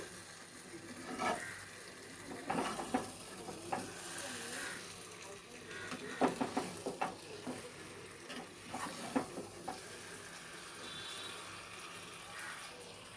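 Chicken for butter chicken sautéed and stirred in a pan, with a steady sizzle under intermittent scraping and clattering of the spoon against the pan, close and fairly loud throughout.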